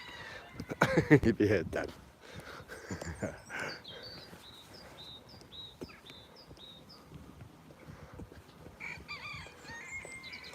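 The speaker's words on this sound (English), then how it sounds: "That were a real weak crowing of it, weren't it?" A rooster gives a weak, thin crow amid some clucking and other fowl sounds, fairly close. Someone talks loudly over the start and briefly later on.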